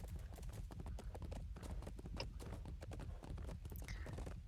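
Horse hooves clip-clop steadily in Chivalry 2, a medieval combat game, a dense rhythmic patter under a busy background while a rider travels along.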